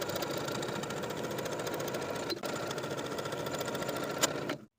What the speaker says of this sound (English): I'm simply going to fold it along that 5/8 of an inch hem and edge stitch close to the raw edge